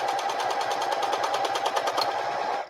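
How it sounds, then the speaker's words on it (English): A sewing machine runs fast and continuously while stitching the side of a fabric tote bag, its rapid rhythmic needle clatter close and loud before stopping abruptly at the end. "So I'm going to stitch this side, and hopefully I'm not going too fast."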